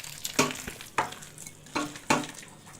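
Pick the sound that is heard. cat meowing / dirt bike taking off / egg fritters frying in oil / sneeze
egg fritters frying in oil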